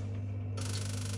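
A home room heater, run automatically during cold weather in Ukraine, ignites with a sudden broad whoosh as its flame catches. The rush then settles into a steady hiss over a constant low hum.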